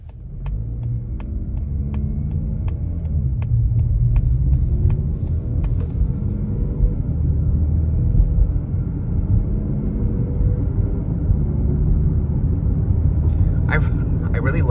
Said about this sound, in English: let's go ahead and do another shift point, and just you'll be able to see how the vehicle behaves on acceleration.